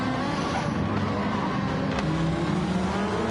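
Race cars in a sim racing endurance event at Monza, with a Lamborghini Huracan GTD being lapped, drone steadily with layered engine tones and a brief passing swell midway, close and continuous.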